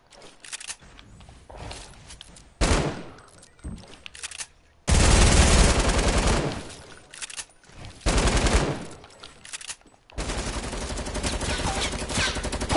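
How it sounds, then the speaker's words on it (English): Bursts of gunfire from a PS4 shooter game in loud, dense stretches of sustained automatic fire, broken by short quieter gaps. "Hunter, stop shooting at Alex."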